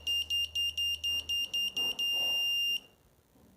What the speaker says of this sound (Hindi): so without opening this switch we can operate the buzzer